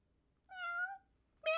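A human voice imitates a white tabby kitten's meow: one drawn-out, close, clear mew, a short pause, then a second sharp higher-pitched cry that starts as the clip ends.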